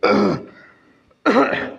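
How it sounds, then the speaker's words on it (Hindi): One person gives two harsh, loud throat-clearing coughs close up, separated by a short quiet gap. "सॉरी खांसी हो रही है बहुत तेज"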